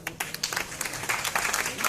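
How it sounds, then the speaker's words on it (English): Seminar audience clapping for a guest speaker on space radiation science, a brief patter of scattered hands from a modest crowd with a murmur of voices underneath. "Could we have a round of applause for Sir?"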